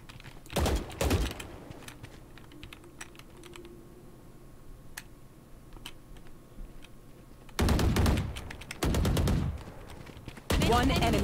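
Gunfire in a video game comes in loud rapid bursts early on and again near the end, with quieter clicks and tapping between volleys.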